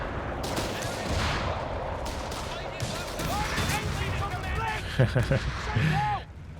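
Mortar and small-arms fire in Company of Heroes 3, a 2v2 match with Canadian and US forces against German factions, with a dense, steady barrage of shots and blasts and a few sharp louder impacts near the end, under game voices.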